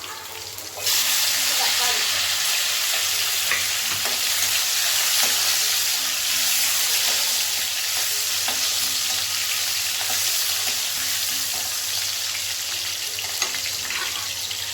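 Chillies dropped into hot oil over a high flame burst into a loud, continuous sizzle that holds steady, with occasional stirring clicks, for a mint chutney.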